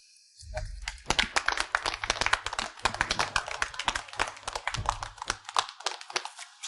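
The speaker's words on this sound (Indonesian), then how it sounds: "mari kita berikan tepuk tangan yang meriah untuk menyambut pengantin baru" Wedding guests clapping to welcome newlyweds, a burst of close, crisp hand claps from a small group starting abruptly, lasting about five seconds, then tapering off.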